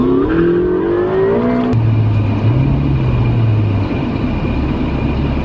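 A Ferrari on a ride at Ferrari World in Abu Dhabi drives fast, its engine roaring loud and close as it accelerates, then settling into a steady high-speed drone with no talking.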